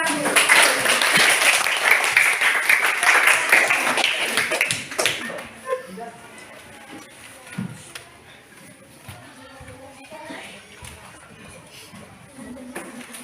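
Classroom students clapping for a presenting group, a dense burst of applause lasting about five seconds before fading into shuffling and quiet room noise.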